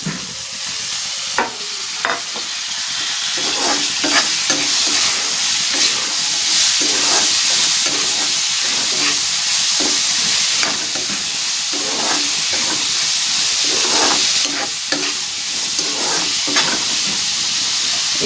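Bitter gourd with slit green chillies frying in a pan as it is stirred: a steady, loud sizzle broken by repeated scraping strokes of the spatula, with no talking.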